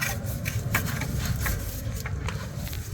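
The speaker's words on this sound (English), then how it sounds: "Just screw the lid back on." A fuel tank lid on a 1979 Cadillac Seville is screwed back on by hand, making quiet, rough rubbing and grinding scrapes in short bursts at close range.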